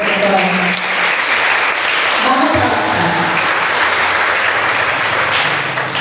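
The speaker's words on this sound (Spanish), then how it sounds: "Den un aplauso al Señor." A women's church congregation applauds steadily and loudly throughout, while a voice speaks over the clapping midway.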